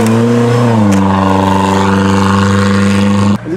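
An off-road Suzuki Jimny in a hard-class race holds a loud, steady engine drone, its pitch rising briefly before the sound cuts off sharply near the end.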